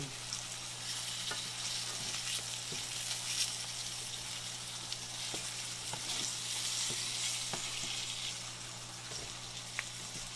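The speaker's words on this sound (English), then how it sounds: "Now I'm just going to let this fry good, and it'll get just as golden brown." A pork chop searing in a pan to golden brown, giving a quiet, steady sizzling hiss with scattered small pops over about ten seconds.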